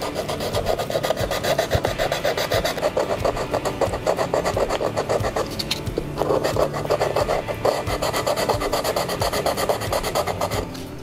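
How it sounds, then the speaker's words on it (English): Sandpaper rubs steadily over carved wood that has been shaped with a Dremel power carver, a continuous close rasping scrape with quick back-and-forth strokes, loud and unbroken for the whole stretch. "we are going to hit this with some sandpaper"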